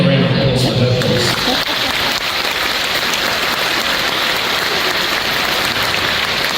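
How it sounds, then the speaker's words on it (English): An audience at a Brisbane citizenship ceremony breaks into steady, dense applause after a brief voice at the start, the clapping continuing loud and even to the end. "So can we have a round of applause for her, please?"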